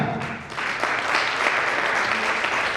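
Loud, dense applause from an anniversary event audience, a steady wash of many hands clapping that holds throughout without a break.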